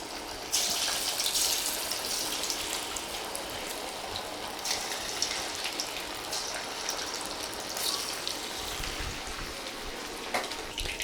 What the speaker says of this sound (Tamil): இந்த மீன் துண்டுகளெல்லாம் நம்ம நல்லா பொரித்து எடுத்துடலாம்.